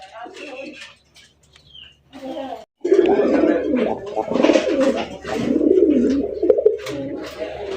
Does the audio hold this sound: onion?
no